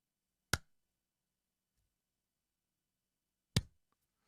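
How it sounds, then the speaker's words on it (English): Two sharp, isolated hand claps about three seconds apart, close and loud in an otherwise silent room, made as an audio sync clap test for an ATEM Mini setup with a Rodecaster Pro. "I just do the clap test"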